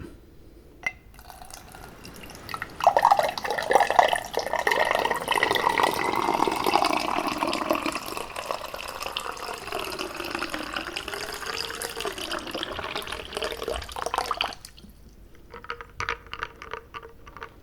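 Iced tea poured from a container into a skillet, a steady liquid stream lasting about twelve seconds with a few clinks near the start, then tapering off into quieter trickles and drips, with no talking.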